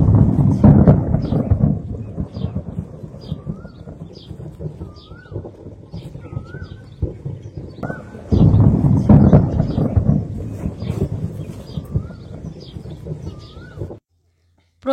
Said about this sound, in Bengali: দাঁড়াও তোমাদেরকে শোনাচ্ছি যে কত জোরে বিদ্যুৎ চমকাচ্ছে।